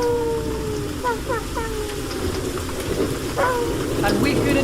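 Steady rain hisses over a low rumble of thunder, with faint chirping tones scattered through the storm.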